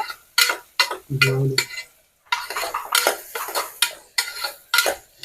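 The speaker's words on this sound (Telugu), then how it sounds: "ఆయిల్ వేడైందండి ఇప్పుడు ఆనియన్స్ వేసేస్తున్నాము కొంచెం లైట్ బ్రౌన్ కలర్ అయ్యే వరకు వేయించుకుందాం ఆనియన్స్" Onions tossed into hot oil for a mutton fenugreek curry, with bursts of stirring, spoon scraping and clinking against the pan, a brief low hum, and a steady sizzle in between, no talking.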